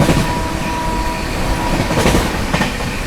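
Shiv Ganga Superfast Express, a Banaras–New Delhi superfast train, racing through Panki Dham station at high speed, heard from aboard as a loud steady rumble with rapid wheel clatter and brief metallic bursts.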